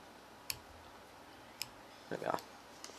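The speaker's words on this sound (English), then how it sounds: "come in with your scissors" A few crisp scissor snips trimming thread during fly tying, close by and spaced out, with a quick cluster of cutting clicks near the end.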